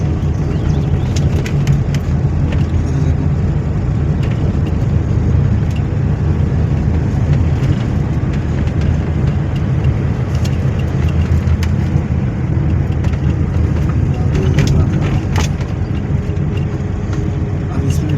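A car engine runs steadily while a learner drives and shifts gears, giving a continuous low drone with road noise that holds at an even level throughout.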